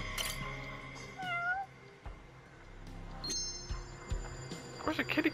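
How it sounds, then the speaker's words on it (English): A cat in the video game Judgment meows a couple of times, short rising cries close by, among game ambience and soft footsteps, with a person talking over parts of it. "Where's a kitty cat?"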